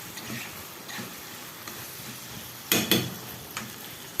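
Pasta with chicken sizzles softly in a pan while it is stirred, with a faint continuous frying hiss, light scraping and a couple of sharper clinks of a utensil against the pan.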